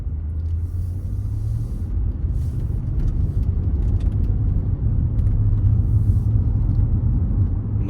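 A 2013 Range Rover Sport Supercharged on the road, its steady low engine rumble and road noise droning continuously from inside the cabin with no talking.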